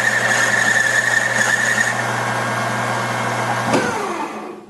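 Metal lathe running an outside machining pass: a steady motor hum with a high cutting whine for most of the stretch, a brief tool-contact burst near the end, then the sound winding down, with no voices.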